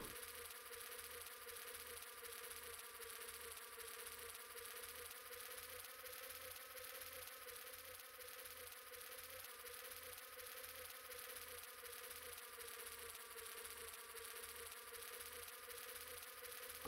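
A fly buzzes steadily and continuously in The Binding of Isaac: Repentance, a close, even drone with a faint pulsing texture and no talk over it.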